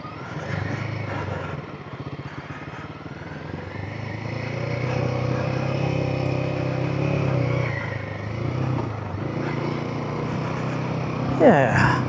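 A four-wheel drive vehicle grinds up the rough Mount Terrible track, its engine droning and rising steadily with rattles and clatter from the cabin, loud and close, with someone talking over it.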